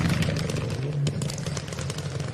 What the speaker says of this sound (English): The Evo coming through.